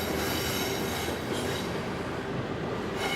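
A regional train rolls along its rails between West Berlin and West German cities, a loud, continuous rumble with steady wheel noise and a faint high squeal throughout.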